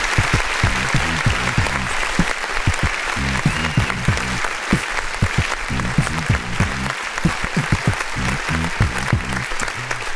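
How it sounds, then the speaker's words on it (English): A canned applause effect from a clap button gives a dense, steady burst of many hands clapping at even loudness, continuing for about ten seconds over a low rhythmic music bed. "Let me go ahead and hit the clap button for that right there."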